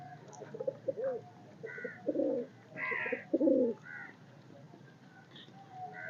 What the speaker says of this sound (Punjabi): ਇਸ ਕਬੂਤਰੀ ਨਾਲ ਕਬੂਤਰ ਲੱਗਿਆ ਹੋਇਆ